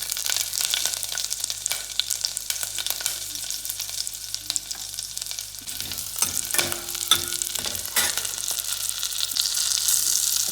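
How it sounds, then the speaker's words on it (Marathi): Cumin and green chillies fry in two spoons of ghee in a pan, a continuous close sizzle with crackles and occasional scraping stirs, no talking. "जिरे तडतडल्यानंतर याच्यामध्ये घालायची हिरवी मिरची,"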